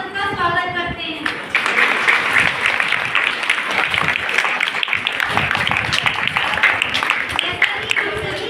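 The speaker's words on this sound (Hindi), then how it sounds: "एक बार हम सब तालियों से आप सबका स्वागत करते हैं।" An audience at a monthly satsang at Kripal Ashram in Bareilly breaks into loud, sustained welcoming applause. After a brief stretch of voices, the dense clapping continues steadily to the end.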